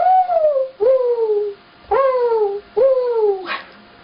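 Human voice imitating a mourning dove, four mournful sliding coos in a slow, evenly spaced series, close and loud, with no other sounds.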